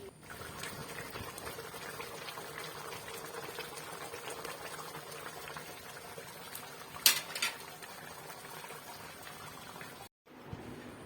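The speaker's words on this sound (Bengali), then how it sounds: "এই তো ফ্রাইড রাইস হচ্ছে" Fried rice with Chinese vegetables cooks in a pan, giving a steady close sizzle and bubbling hiss with a brief clatter partway through before the sound cuts off near the end.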